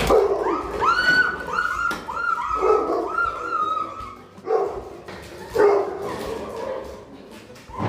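A dog barks and yelps repeatedly in bursts, loud and close, confronting robbers to defend its owner, with whimpering tones between the barks and no speech.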